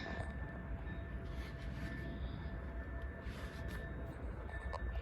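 A train hauled by an EP07 electric locomotive passes with a steady, heavy rumble of wheels on the rails, a high whine running through it, fairly close and unbroken throughout.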